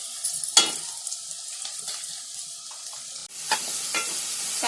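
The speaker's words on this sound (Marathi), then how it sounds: "कांदा अद्रक लसूणची पेस्ट तेलामध्ये फ्राय करून घेतली" Onion, ginger and garlic paste sizzles in hot oil for a Konkani crab dish, with a steady fry and clinks of a spoon stirring. A sharp scrape comes early, and the sizzle grows louder after a short break.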